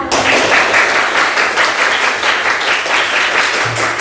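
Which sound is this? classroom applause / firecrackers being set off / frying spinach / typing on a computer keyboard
classroom applause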